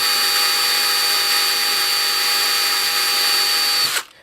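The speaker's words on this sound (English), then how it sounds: "start drilling." A power drill whines at a steady high pitch for about four seconds, loud and close, then spins down and stops.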